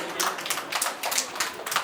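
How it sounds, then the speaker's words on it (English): Scattered clapping from an audience at a Montessori school event, light and somewhat uneven with distinct individual claps, fairly quiet and spread across the moment. "A round of applause for her, please."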